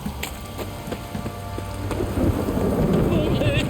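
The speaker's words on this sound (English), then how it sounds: "This downpour's a bastard, it is." Heavy rain pours steadily with rumbling thunder underneath in The Witcher 3: Wild Hunt, the downpour growing louder toward the end.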